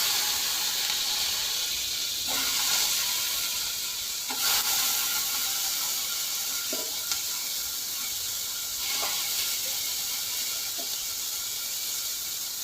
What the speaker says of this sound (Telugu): ఇలా వేగుతున్నాయండి.